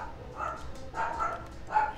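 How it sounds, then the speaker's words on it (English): A dog barks and yips in short bursts somewhere in the background, faint and distant, recurring about three times over a low room hum. "You probably hear my dog in the background going crazy."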